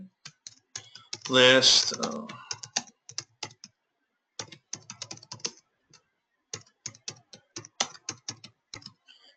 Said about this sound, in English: I could type a description